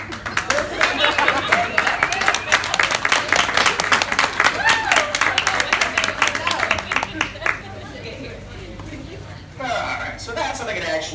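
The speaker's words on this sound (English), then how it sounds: "Sometimes people clap." A crowd clapping on Miami's South Beach, with dense irregular claps and voices mixed in, then a brief pause before more claps and chatter resume.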